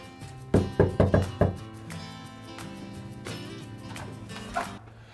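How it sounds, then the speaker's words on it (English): A quick burst of several sharp knocks on a front door, followed by a softer knock and muffled household sounds. "I'm gonna knock on the door"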